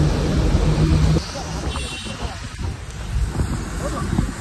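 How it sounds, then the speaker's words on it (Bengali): Heavy rain drums steadily on a car roof during a downpour near the Kalighat temple, with a low rumble of thunder early on under the continuous wash of rain. "খুব বৃষ্টি হচ্ছে এখানে"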